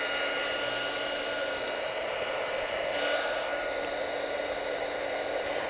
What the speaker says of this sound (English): it's a little heat burning tool and I can actually shrink the foam underneath